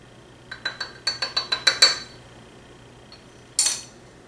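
A spoon clinks rapidly against a container while stirring homemade shaving cream thickened with guar gum, with a quick run of about eight close, bright taps followed by a pause and one more clink.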